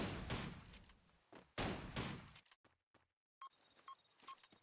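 Gunfire bursts in the Free Fire video game during a one-versus-one match, loud broadband blasts in two clusters, then a brief near-silence followed by sharper, lighter shots and clicks.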